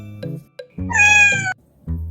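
A pet cat lets out one loud, close meow with clear tonal harmonics, bracketed by short softer vocal sounds before and after it.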